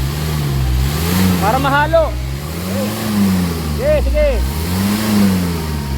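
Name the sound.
car engine revving after anti-smoke exhaust treatment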